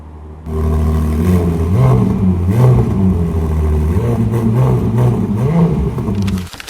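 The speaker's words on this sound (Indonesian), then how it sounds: "Lalu mari kita dengerin suara brum brum." An expensive low-slung car's engine starts and revs in short rising and falling bursts, loud and close at an auto showroom, ending with a faint clatter.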